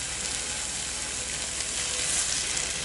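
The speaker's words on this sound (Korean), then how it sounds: "여기에 일단 살짝 구워요." Tofu pan-fries in a coated frying pan, giving a loud, dense, continuous sizzle that holds steady throughout, close up and with no talking.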